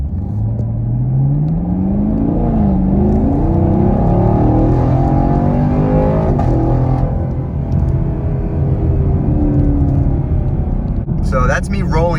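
A 2021 Chevrolet Camaro LT1 on stock tires accelerating hard during a 0-60 run, its engine rising steadily in pitch and rumbling loudly and close throughout, with wind and road roar underneath.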